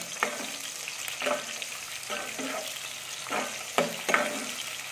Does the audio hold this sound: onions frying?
yes